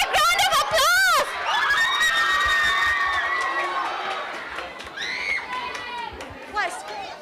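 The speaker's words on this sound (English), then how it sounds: "Let's give a big round of applause." Children cheering and shouting at a school Christmas talent show as an open-group performance is welcomed, with loud excited voices bursting at the start and a busy crowd murmur continuing beneath.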